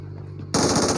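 A rapid automatic gun in PUBG Mobile fires a sustained burst of close, loud shots that begins abruptly after a brief quiet stretch and continues without a break.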